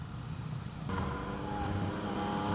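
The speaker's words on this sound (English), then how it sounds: "I do like the sound of that pipe." Exhaust from a 2017 Yamaha FZ09 motorcycle rumbles quietly at a steady low note, then swells slightly partway through as the engine picks up, continuing as a soft, even drone with no talk.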